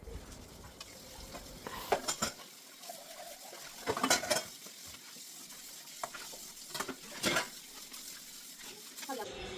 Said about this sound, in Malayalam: പിന്നെ പാത്രം കഴുകണ ജോലിയാണ്